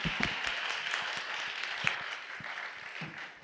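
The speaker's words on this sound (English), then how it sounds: "You can applaud, yeah." Conference attendees in Riga applaud at the close of a session, a steady wash of many hands clapping at moderate distance that slowly fades near the end, with a few louder individual claps and faint murmurs.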